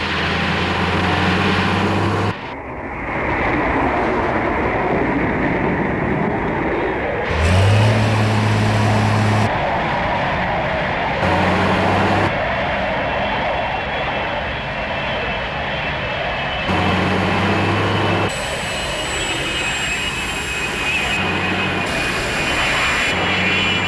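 The Fireflash airliner's jet engines roar loud and close on landing approach, a sustained whine and rumble that drops away and cuts back in through abrupt edits, with no voices.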